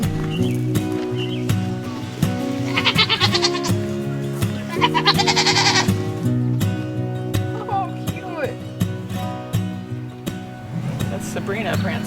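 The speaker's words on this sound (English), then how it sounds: "First stop, the alpacas." Alpacas at a farm call with repeated bleating, humming cries near and fairly loud, while people talk over and around the animal sounds throughout.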